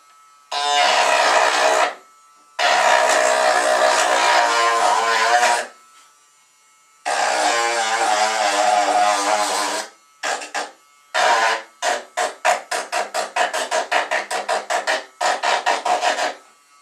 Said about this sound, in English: I'm going to go ahead and use my Dremel with a sander on the end of it.